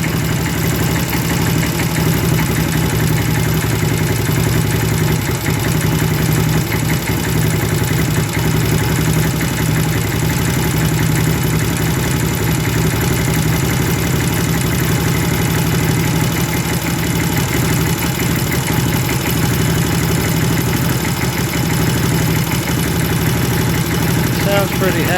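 A Honda Dream motorcycle engine with a just-fixed carburetor idles steadily while warming up, a continuous even putter that stays close and loud from start to finish.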